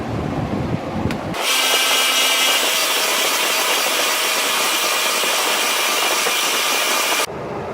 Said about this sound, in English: I'll be using my modified Harbor Freight sander